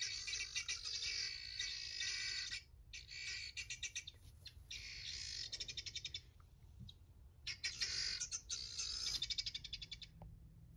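Domestic guinea fowl calling in repeated bursts of harsh, rapid, high-pitched cackling chatter, loud and close, with short pauses between volleys.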